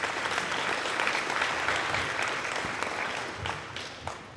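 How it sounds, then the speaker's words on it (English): A symposium audience gives warm, continuous applause for presenters, a dense wash of clapping that holds steady and then tapers slightly toward the end. "Give them a big round of applause."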